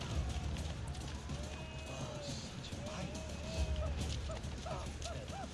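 Horse hooves clop along at a running pace in Assassin's Creed Brotherhood, a quiet, rapid patter mixed with game ambience and faint tonal sounds.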